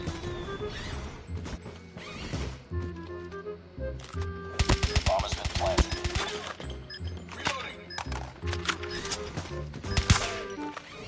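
Rapid bursts of Man O War rifle fire in the mobile shooter Call of Duty Mobile, sharp repeated shots in clusters with mechanical reload clicks, loud and close over a short run.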